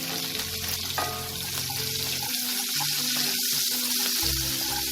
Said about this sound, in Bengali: পেঁয়াজটাকে আমি হালকা ব্রাউন করে ভেজে নেব।